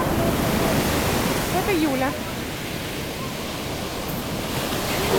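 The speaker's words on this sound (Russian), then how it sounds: "Находимся на море." Sea waves at a beach make a constant broadband wash of surf and wind, with a short spoken phrase and faint voices under it.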